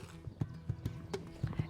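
A horse is led around a property, its hooves clip-clopping in an uneven, close, moderately loud rhythm of sharp knocks.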